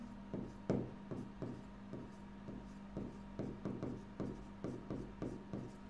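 Marker or chalk strokes on a board in a classroom, a rapid series of short scratchy rubs in an uneven rhythm, close and fairly quiet, with no talking over them.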